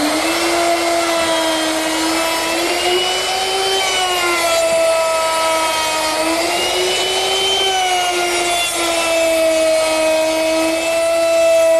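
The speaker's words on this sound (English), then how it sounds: "now all that's left to do is round over all the edges with a 1/2 inch round over bit" A router fitted with a half-inch round-over bit shapes the edges of wooden picnic table parts, a loud, steady, high-pitched whine that wavers slightly as it cuts for several seconds without a pause.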